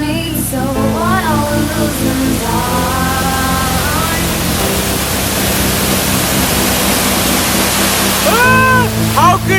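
A waterfall in Iligan City gives a loud, constant roaring rush of falling water. Someone talks over it, partly buried under the noise.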